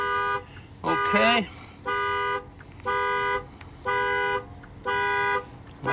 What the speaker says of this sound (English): Let's see if we can get this alarm shut off.